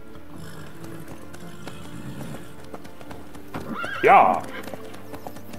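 A swift horse trots along in The Witcher 3: Wild Hunt, its hooves clip-clopping in a steady rhythm, with a brief whinny near the end and a man exclaiming once over the hoofbeats.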